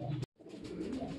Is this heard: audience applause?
no